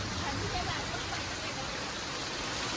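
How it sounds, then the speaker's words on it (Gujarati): Monsoon rain pours steadily in a hilly village, a dense, even hiss of falling water that holds at the same moderate level throughout. "જો વરસાદ ચાલુ છે"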